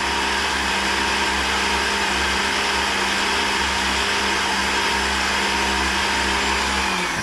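A blender runs continuously on a thick strawberry protein shake, a loud, steady motor whine with grinding texture that holds unbroken, close and alone, then slightly drops in pitch near the end.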